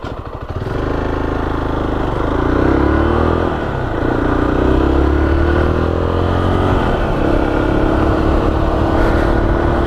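A Zontes motorcycle is ridden, its engine droning loudly and steadily, rising in pitch as it accelerates through several gears, with a short dip between shifts. Wind and road noise run underneath throughout.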